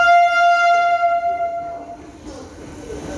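A train on foggy Delhi railways approaches a platform, its loud horn sounding a long steady blast before fading into the rumble of the arriving cars.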